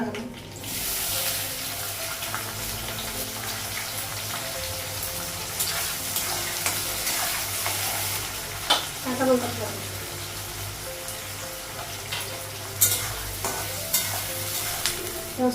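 Onions frying in a pan while preparing spiced mutton curry in a home kitchen, a steady close sizzle running throughout with occasional clinks and stirring scrapes.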